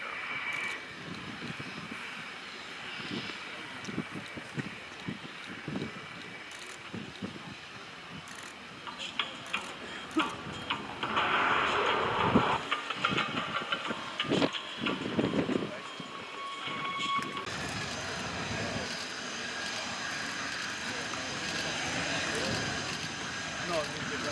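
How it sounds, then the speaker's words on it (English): A Lockheed U-2 Dragon Lady jet taxis at the RIAT 2025 airshow, its steady engine roar and whine swelling midway and holding loud, with a voice talking over it. "the U-2 is being carefully manoeuvred onto the taxiways to take it back to its lair on the north side"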